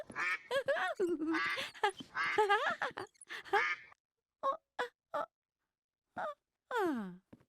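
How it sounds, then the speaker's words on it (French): A plastic toy duck pulled along on a string squeaks out several short, separate quacks in an irregular rhythm, heard close by. Brief vocal sounds come just before the quacks. "Rosie entra dans la salle tirant son canard en plastique par une ficelle"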